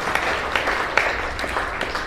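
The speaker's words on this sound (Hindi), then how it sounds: "ताली बजाइए भाई" Audience applause fills a network marketing meeting hall, steady dense clapping from many hands throughout, close and loud with faint voices underneath.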